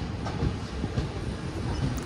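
A passenger train runs on the Konkan railway, a steady loud rumble with faint rhythmic wheel clatter heard from inside the coach, with no talk.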